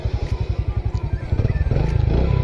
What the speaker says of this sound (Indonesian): So start natin tong motor.